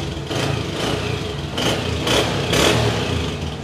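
Honda 125 motorcycle with self-start, parked and running, its engine note rising in several short revving bursts over a steady rumble, close and fairly loud with no talking.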